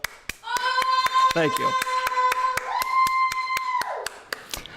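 Crisp, evenly spaced hand claps, around fifteen in a steady beat, keep time beside a sustained melodic tune during a live reading, close and clear, with a short spoken phrase partway through.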